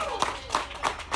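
Audience applause for quarterback Brett Rypien at a live sports radio show: a few sparse, distinct claps in an even rhythm, fairly close, with a murmur of voices underneath.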